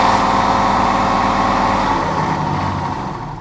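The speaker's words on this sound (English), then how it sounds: "Daniel, give it a rev." A lorry's heavy diesel engine revs hard at close range, a loud, gruff rumble that holds high before easing off toward the end.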